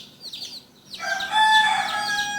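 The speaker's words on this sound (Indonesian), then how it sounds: "sementara ayam ini terus teriak-teriak minta tolong, bahkan kesakitan" A distressed chicken, held during a difficult egg delivery, squawks and crows loudly in a continuous, strained outcry that builds after a brief quieter start, with no talk.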